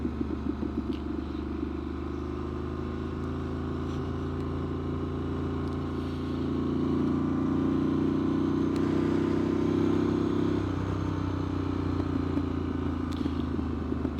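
A Triumph Street Scrambler motorcycle riding along a slow country road, its engine a steady low drone that swells louder midway and then eases slightly, heard alone without talk.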